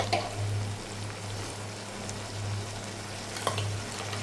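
Ginger, garlic and chili paste hits softened onions and salt in a hot pan, giving a steady low sizzle with a couple of brief scraping clinks near the start and later.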